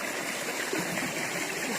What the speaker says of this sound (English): Water drains off from the fields.